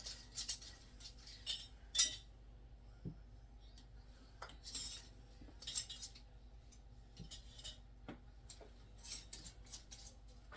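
Glass relish jars and lids for dill relish being handled, with scattered light clinks and scrapes of glass and metal, quiet and sporadic.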